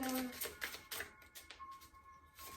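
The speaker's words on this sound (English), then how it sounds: "Sorry, these cards shuffle really loudly." A deck of tarot cards being shuffled loudly, giving a run of crisp, papery riffling bursts and flutters that come close and fairly loud with brief pauses between them.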